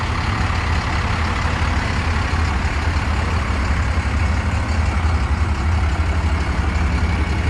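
A diesel-powered Reo Speedwagon truck idles at a car show rod run, a loud, steady low rumble that holds unbroken throughout with no talk over it.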